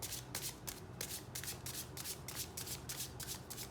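Tarot cards are shuffled by hand in quick, rhythmic riffling bursts, close and fairly quiet, with no voice.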